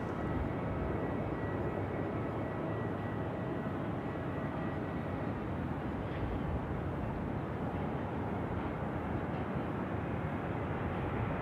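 Jet aircraft at Sydney Airport at night, a steady broadband roar of engines running continuously at moderate loudness with no breaks, heard alone without talk.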